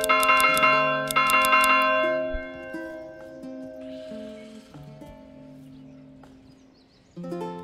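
Church bell ringing in the medieval city-building game Manor Lords, several loud resonant strikes in quick succession at the start, then long humming decays with softer tolls and a final strike near the end.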